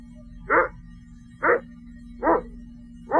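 Single dog barks repeat at a steady pace about once a second outdoors on a clear night, a dog that has caught a raccoon, each bark fairly close and standing out over a constant low hum.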